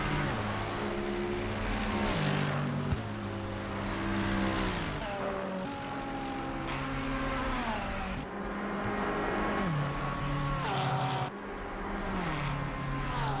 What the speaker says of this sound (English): Sorry, I just like listening to the cars sometimes.